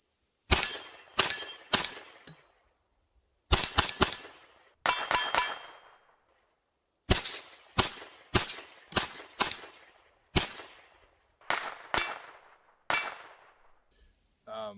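Shots from a .22 pistol with a 6-inch barrel firing Federal Auto Match ammunition ring off AR500 steel targets. Sharp cracks each end in a bright metallic clang, fired in quick clusters with short pauses, fairly faint and distant.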